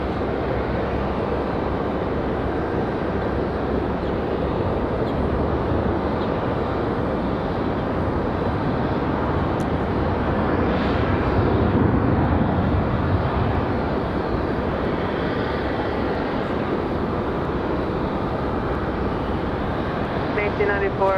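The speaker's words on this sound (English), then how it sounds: "Sounds like we're getting ready to have one of our American Eagles push back here in just a minute." An American Eagle airliner idles before pushback at Raleigh-Durham International Airport, a broad steady jet roar with engine whine that swells briefly midway, with people talking over it.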